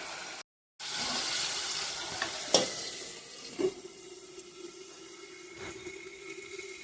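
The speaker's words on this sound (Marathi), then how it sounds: "त्याला एक 10 मिनिटं बारीक आचेवर आतल्यात शिजू द्यायचं, झाकण ठेवून याच्यामध्ये" Chicken simmers covered in a pan over a low flame, giving a steady, soft bubbling hiss throughout with a few faint lid or utensil clicks and no talk.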